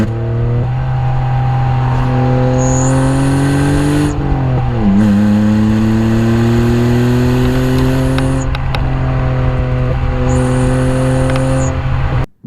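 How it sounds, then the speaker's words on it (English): A naturally aspirated BMW E46 engine revs loudly and close by, pitch climbing through the gears, dipping at each shift and rising again, with a sharp cut at the end. "This engine also makes a great sound that no turbocharger is ever going to be able to"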